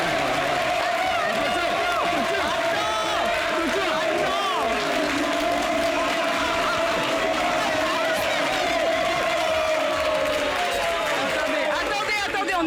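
A television studio audience applauds and cheers for an applause-meter vote, producing a dense, steady roar of clapping and crowd noise that holds loud throughout, with voices mixed beneath.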